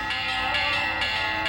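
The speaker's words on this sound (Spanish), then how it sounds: "escuchó el primer llamado de las campanas del pueblo, el llamado que anunciaba la misa" Village church bells ring the call to mass, a dense sustained metallic peal with overlapping strikes and rich ringing overtones, loud and continuous throughout.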